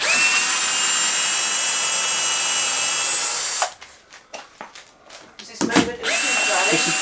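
A power drill whines steadily for several seconds while backing screws out of the face of a concrete lintel form, then stops, leaving brief knocks and handling noises before the drill whirs again near the end.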